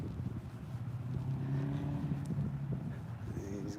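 Three cars driving through an intersection, heard as a steady, moderately distant engine drone with a slight swell in the middle, against low outdoor rumble.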